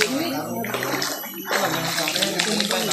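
Water splashes and sloshes loudly and close by as people play in a river, with bursts of churning water between quieter moments and voices talking over it.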